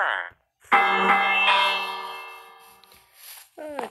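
A bell rung in the video game Minecraft gives one loud, ringing strike that decays slowly over about two seconds, with brief speech just before and after.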